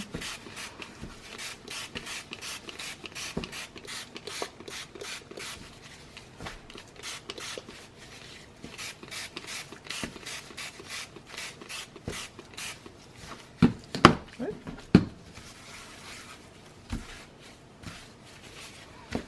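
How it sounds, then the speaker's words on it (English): Damp paper for a scrapbook album is crinkled and rubbed by hand, a steady close rustle of scratchy crackles with a few sharper crunches near the end. "Just get it wet and crinkle it up a little bit."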